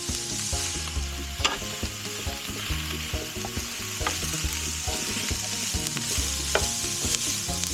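Carrots and spring onions with red and black pepper are stir-fried in a pan for a sweet and sour tilapia dish, giving a steady close sizzle under busy clatter and scraping of a utensil, with no talking.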